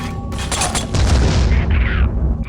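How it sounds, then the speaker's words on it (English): A heavy gunshot boom goes off in the shooter game Vivisector: Beast Within, a loud close blast followed by a rumbling decay and some mechanical clatter, with no talking. "Someone shooting at me from behind?"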